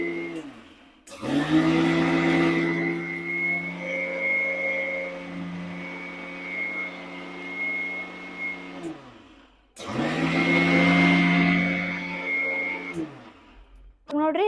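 Mixer grinder jar powdering roasted ragi, a loud steady motor whine running about eight seconds, stopping briefly, then starting again for a second burst.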